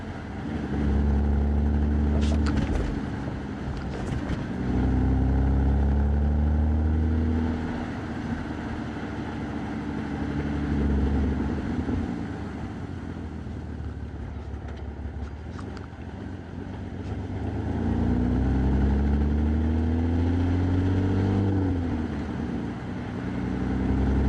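Porsche 987 Boxster engine while driving away from Windsor Castle, a low droning engine note that rises and falls with gear changes, mixed with wind and road noise.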